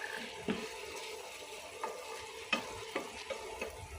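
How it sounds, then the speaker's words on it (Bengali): Red amaranth greens cooking in a pan are stirred gently, giving a soft steady sizzle with a few light scrapes and clicks of the utensil against the pan. "এরকম হালকা নাড়া দিয়ে আবার ঢেকে দিতে হবে।"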